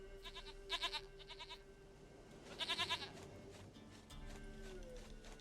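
Repeated nasal goat bleats from The Witcher: Wild Hunt come in several close bursts, loud and near, with a pause between groups and game ambience underneath.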